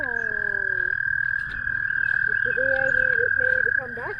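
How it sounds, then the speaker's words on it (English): Frog or toad croaking from a pond surface outdoors, a run of low repeated croaks at mid distance, set against a steady insect-like whine and light background noise. "a big old toad or frog sitting on the top of the pond here"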